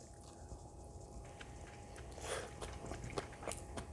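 Someone bites and chews a seasoned mung bean sprout side dish (sukju namul) up close, with soft, quiet, crisp crunches that come in irregular bursts and grow slightly more frequent toward the end.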